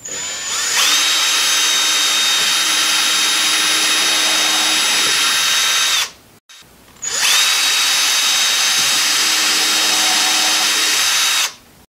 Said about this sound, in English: I'm going to drill just a couple of pilot holes here for the screws